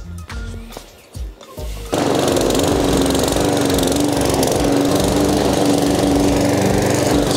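A lawn mower engine kicks in after a few seconds of faint shuffling, then roars steadily and loudly up close.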